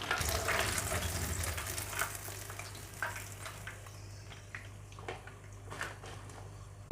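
Chicken pieces for a crispy zinger-style burger frying in hot oil, a steady crackling sizzle throughout with scattered soft clicks and taps as pieces are lifted out, no talk.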